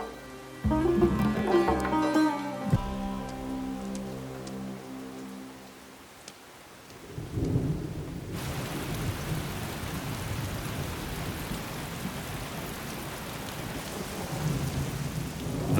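A thunderstorm over an Arabian desert wadi: sharp thunder crackles and rolls nearby in the first seconds, fades, then heavy rain pours steadily, hissing and pattering on the ground with distant rumbles.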